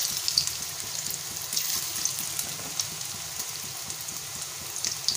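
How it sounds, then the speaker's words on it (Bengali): Chicken pakoras frying in hot oil, a steady soft crackle and sizzle with small pops scattered throughout, close and moderately quiet, with no speech. "তো আস্তে আস্তে সবগুলোকে আমি ভেজে তুলে নিই"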